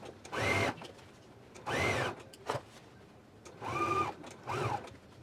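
A sewing machine stitches around the top of a belt loop opening in four separate bursts of running, each about a second long, with quiet pauses between them and a brief click in the middle.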